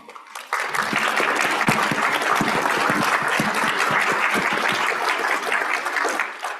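A conference audience bursts into sustained applause for student leaders, a dense, steady clapping that holds for several seconds before tapering off.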